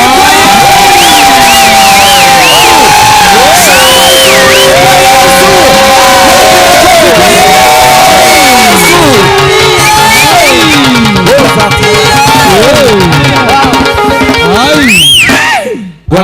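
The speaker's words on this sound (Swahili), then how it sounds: "Hiyo ni shangwe." A church congregation at a live Sunday service cheers, whoops and shouts loudly and continuously, many voices rising and falling together in a dense, close crowd roar that briefly swells near the end before dropping away.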